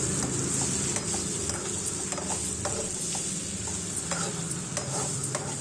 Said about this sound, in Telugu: మనం కట్ చేసుకున్న బెండకాయ ముక్కల్ని కూడా వేసేసుకొని మొత్తం అంతా కూడా బాగా కలపాలి.